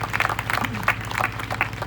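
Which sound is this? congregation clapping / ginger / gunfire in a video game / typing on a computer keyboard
congregation clapping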